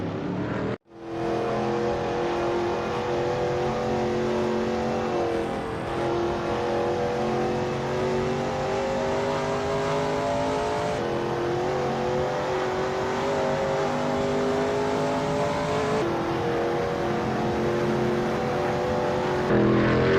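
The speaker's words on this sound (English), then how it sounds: "It's clear that Simon of the Desert is pushing his car to the very edge of traction on this qualifying lap." A Veloce GTS-8 race car screaming around Palmadero in a racing video game, a loud sustained engine note climbing through gears with brief shifts and a sharp cut near the start.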